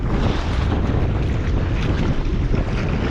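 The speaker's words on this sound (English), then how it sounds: "this wind is brutal" Strong wind buffets a small fishing boat on open water, loud steady wind noise rumbling across the microphone throughout with no break.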